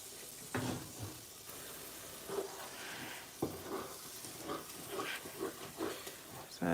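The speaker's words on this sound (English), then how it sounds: "So I gotta go ahead and stir it." Egusi melon seed soup sizzling in a pot as it is stirred, a soft steady hiss with scraping stirring sounds here and there, quiet and close.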